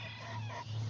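Azteca-line rooster clucking close by, a low steady cluck of fowl running through the whole second with no talk.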